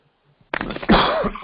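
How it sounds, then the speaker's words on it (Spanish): A single sharp cough bursts out close by, followed by a rough, throaty second cough, loud against an otherwise quiet background. "Le pido una disculpa por la tos"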